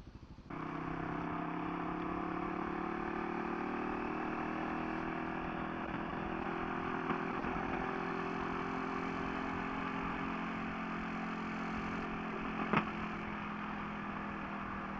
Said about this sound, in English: I didn't realize this motorcycle had caught up to me so quick.